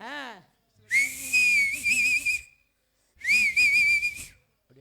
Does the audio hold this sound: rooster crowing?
no